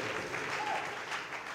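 Sustained crowd applause fills a church congregation acclaiming the king of kings during a sermon, a dense steady clapping that holds at even strength throughout.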